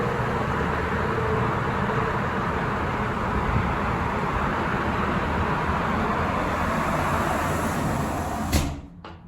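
Steady broadband roar of distant freeway traffic heard outside a hotel room, constant and fairly loud, ending with a brief clatter near the end.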